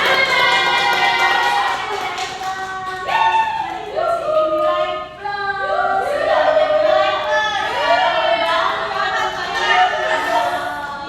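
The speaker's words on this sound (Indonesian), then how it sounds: "Tepuk tangan. Tepuk tangan." Classroom applause and cheering from pupils during a microteaching lesson, a steady wash of clapping mixed with excited voices and shouts, loud and close, carrying on for several seconds.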